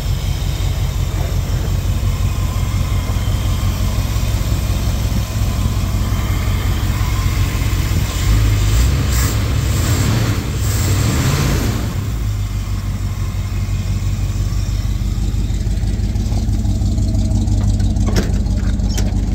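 An old pickup truck engine idling on a used-vehicle lot, a steady, loud low rumble that runs unbroken throughout with a slight swell midway and no voices.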